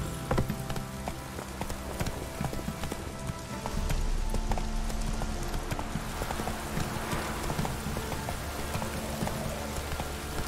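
Horse hooves clip-clopping in The Witcher 3 video game, a steady fast rhythm of hoof beats over a rain-like wash of background game ambience, with no talk.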